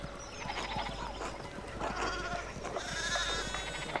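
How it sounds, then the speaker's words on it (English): Sheep bleat in a medieval town in the video game Pentiment, a flock's calls scattered over a busy ambient background at moderate loudness, with no talk. "sheep are taking over the town"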